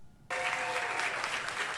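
A crowd at a Tel Aviv donation center bursts into loud, sustained applause after a quiet moment and keeps clapping steadily to the end.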